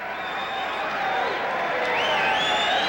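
A boxing arena crowd in Reno before a bout sends up a steady, dense murmur of many voices, with scattered cheers and a swell toward the end that stays fairly subdued.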